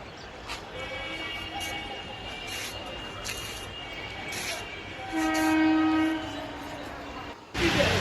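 A train at Barrackpore railway station: a steady rolling rumble with sustained horn-like tones, swelling louder around the middle and ending in a short loud burst.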